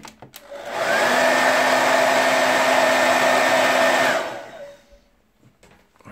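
A Xiaomi Soocare Soocas H3 1800 W ionic hair dryer switches on and blows with a loud, steady whooshing whir for about three seconds, then winds down and falls quiet, with no one speaking.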